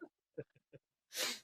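A single sneeze bursts out near the end, loud and close, after a few short murmured voice fragments.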